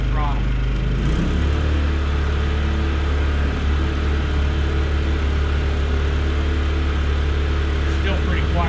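A Wen 2000 inverter generator runs with eco mode off at full throttle, giving a steady, close, even engine drone with a low hum that holds unchanged throughout.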